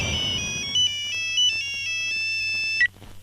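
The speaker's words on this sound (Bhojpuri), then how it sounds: "मंत्री जी का फोन था" A mobile phone ringtone plays a short bright electronic melody of repeating tones, loud and close, cutting off near the end with no voices.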